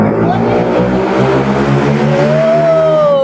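Roadside traffic noise beside a night angkringan food stall, with passing car engines droning and accelerating nearby, a steady loud wash of vehicle sound, with voices mixed in.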